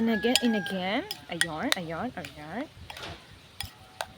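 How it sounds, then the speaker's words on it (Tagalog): A utensil stirs food in a pan, giving a few light scrapes and clinks beneath a person talking through most of the stretch. "Haluin natin again."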